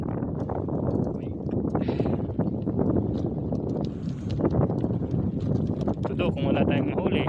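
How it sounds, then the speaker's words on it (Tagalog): Strong wind roars and buffets the microphone in a continuous low rumble while fishing outdoors, with a person talking underneath. "naririnig nyo naman siguro lakas ng hangin"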